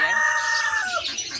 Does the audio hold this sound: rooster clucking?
yes